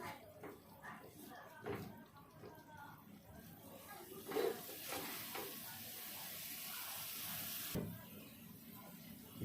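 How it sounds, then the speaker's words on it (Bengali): Turmeric powder being stirred into a puti fish curry in a pan, a soft scraping and gentle sizzle with a few sharper clanks, fairly quiet with low room noise throughout. "দিয়ে একটু ভালো করে নেড়ে মিশিয়ে নেব"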